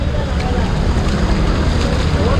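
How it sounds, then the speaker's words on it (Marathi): Loud rushing, sloshing water with a constant low rumble as an auto-rickshaw pushes waves through flooded streets in Vasai-Virar, Mumbai. "हे बघा रिक्षा जातो तसं पाणी बाहेर येते सर्व लाटा वेव पूल झाला आहे"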